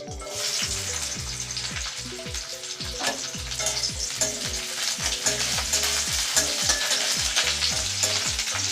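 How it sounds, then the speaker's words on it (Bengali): Chopped onions sizzle and crackle in hot oil in a kadai for white sauce pasta, with repeated scraping stirs against the pan in a steady rhythm. "কড়াইতে তেল দিয়ে দিয়েছি, দিয়ে দিব কুচনো পেঁয়াজ"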